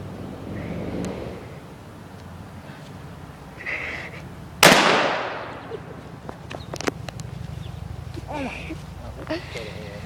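A single loud shotgun blast at a fire extinguisher cracks out near the middle, its noise trailing off. Outdoor wind and quiet talk come before, and scattered clicks and rustles follow.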